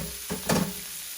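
Chopped onion drops into a hot pan still greasy from cooked pork, giving a brief close burst of sizzling that swells and then settles back into a low frying hiss.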